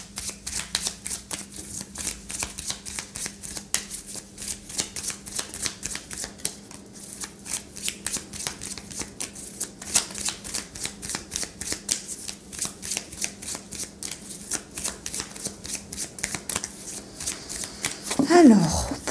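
Oracle cards are shuffled over and over in a quick, crisp riffling patter that runs nonstop, close and fairly soft, while someone speaks French softly throughout.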